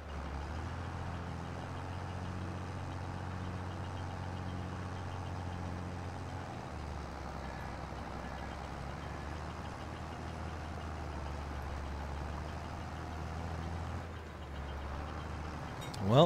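A tractor engine in the farming game Farming Simulator 22 idles and labours steadily with a low, continuous rumble, the pitch shifting partway through, while the machine picks up stones on a field.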